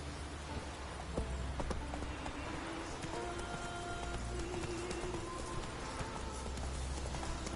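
Geralt's horse Roach in Witcher 3 gallops in after being whistled for on Skellige, steady clip-clopping hooves running through a rain-like wash of ambient noise, moderately faint.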